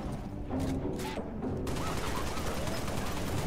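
Sustained gunfire in the video game Cursed Halo Reach, a dense, continuous fusillade of rapid shots that runs steadily and loudly throughout, with a brief voice under the shooting.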